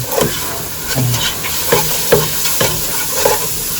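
Lasagna sauce with salt and whole oregano stirred in a hot pan: a steady sizzle and hiss with regular scraping strokes of a spoon about every half second, close and fairly loud, and no voices.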